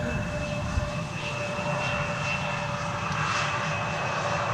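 An Embraer 190 airliner lands on the Polderbaan at Amsterdam Schiphol, its engines giving a steady, broad jet roar with a faint whine, continuous and fairly near throughout.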